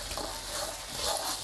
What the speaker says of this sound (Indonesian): Langsung kita tumis. Langsung kita masukkan daun jeruknya, teman-teman. Nah, kita tumis sampai harum.